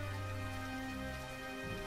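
Steady, continuous rain falls in a dense, even hiss, unbroken and without voices, in a story about a family trapped by floods after two weeks of downpour.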